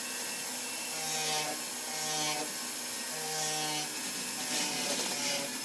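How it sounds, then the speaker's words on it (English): A hand-fabricated metal pendant is ground on its inner surface while shaped around an oval mandrel, giving a steady rasping grind broken into several repeated strokes with short pauses between them. "I'm going to grind that inside"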